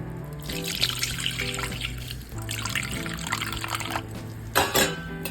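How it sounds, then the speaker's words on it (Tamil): Tamarind water poured from a container onto mashed elephant yam, a close, continuous trickling splash that rises in a brief burst near the end, with no talk. "ஒரு நெல்லிக்காய் சைஸ் புளி எடுத்து கரைச்சி அந்த கருணக்கிழங்குல ஊற்றிக்கணும்"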